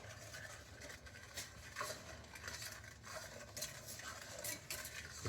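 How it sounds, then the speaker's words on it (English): A spoon stirring pecan praline mixture in a pan, scraping across the bottom in soft repeated strokes with light clinks, quiet and close. "Make sure you scrape the bottom of the pan while you're stirring it so nothing"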